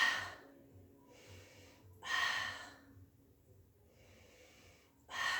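Slow, audible breaths during a pilates mat exercise: two or three strong inhales or exhales with quieter breathing between them, close and alone.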